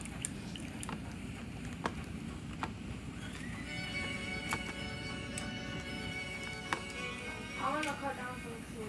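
A horse in the Roblox game The Wild West whinnies faintly over a steady rumbling background with scattered clicks, the neigh rising in a wavering call toward the end.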